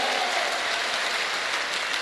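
Steady applause from the audience at a Safe Shop diamond celebration event in Etawah, a dense continuous wash of clapping held at an even level throughout, with no voices.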